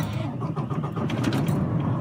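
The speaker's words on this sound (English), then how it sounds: "Hang on, I gotta turn this truck on" A pickup truck engine turns over and catches, close by and fairly loud, settling into a steady idle rumble.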